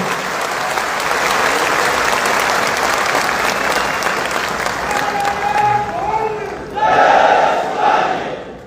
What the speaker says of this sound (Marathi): प्रचंड टाळ्या वाजून आपण त्याचं या ठिकाणी स्वागत करूया